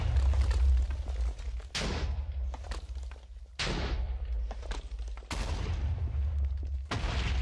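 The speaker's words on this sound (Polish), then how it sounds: "Ja włączyłem ten taki największy wybuch." Huge explosions in a Minecraft explode mod game, a series of loud deep blasts about every 1.5 to 2 seconds, each with a sharp crack that rolls into a low rumble, with no pauses between them.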